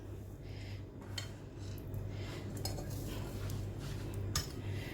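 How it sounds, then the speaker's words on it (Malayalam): Washed small potatoes go into a pressure cooker with light metallic clinks and knocks of utensils and pot, several short taps over a steady low background hum. "അപ്പോൾ നമുക്കിത് ആദ്യം കുക്കറിലിട്ട് വേവിച്ചെടുക്കാം."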